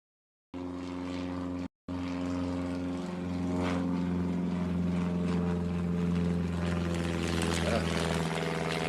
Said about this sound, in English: When a plane flies over nowadays, it's more of an annoyance than anything else.